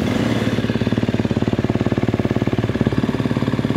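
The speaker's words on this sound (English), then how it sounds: "just let it idle and do its thing" A KTM or Husqvarna motorcycle idles untouched during an initialization procedure, its engine beating in a fast, even, loud, close pulse that stays steady throughout.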